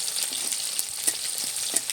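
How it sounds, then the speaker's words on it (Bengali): Five-spice seeds hit hot oil in a wok and sizzle, a close, steady hiss dotted with quick crackling pops over two seconds. "এ পাশের কড়াইয়ের তেলটা একটু নেড়ে চেড়ে নিয়েছি পাঁচ ফোড়ন দিয়ে দিচ্ছি তেলে"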